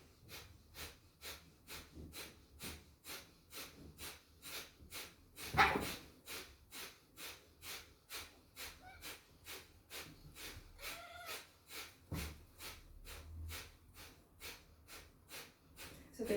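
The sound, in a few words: Kapalabhati breathing, forceful exhales through the nostrils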